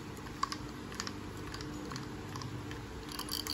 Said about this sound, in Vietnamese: đây là tiếng lưỡi dao của máy nha.